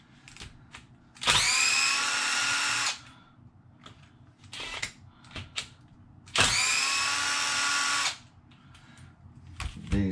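A power drill backs screws out of a Traxxas Sledge RC car: two separate whirring bursts, each about a second and a half long, with quiet handling clicks between them and no speech.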